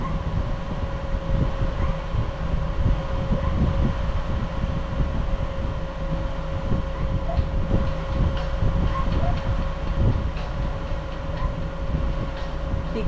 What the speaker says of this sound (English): I heard the fan kick up a little bit higher.